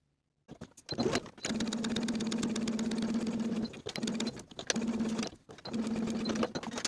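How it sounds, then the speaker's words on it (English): A sewing machine runs steady stitching along the curved edge of a denim skirt, with a few short bursts and pauses between longer runs, close and fairly loud with no talk. "Sew the curved edge with a 3/8 inch seam allowance"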